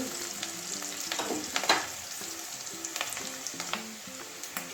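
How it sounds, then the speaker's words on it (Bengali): Onion and garlic fry steadily in a pan for a Bengali katla posto fish curry, a continuous close sizzle with faint stirring scrapes and no voices. "এখন এগুলো ভেজে নিই একটু"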